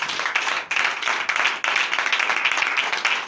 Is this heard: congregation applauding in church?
yes